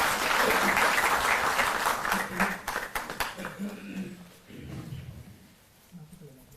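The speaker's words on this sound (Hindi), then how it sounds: "जोरदार तालियों से आप स्वागत करें" An audience at a Delhi government event applauds loudly in welcome, the clapping gradually fading out as a voice begins speaking over it.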